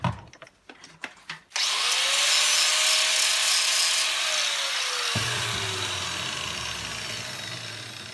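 A brass item has its surface layer ground off to check the plating: loud continuous rotary grinding with a falling motor whine, starting after a few sharp knocks and easing into a lower rasp near the end.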